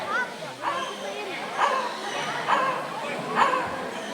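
A pet parrot named Rudy at a bird show imitating a dog's bark, giving several short sharp yaps spaced about a second apart, with a voice and background chatter around them.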